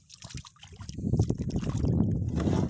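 A wooden bangka out on the water gives a low, rumbling wash that builds after the first second and holds steady and fairly close, with wind buffeting mixed in.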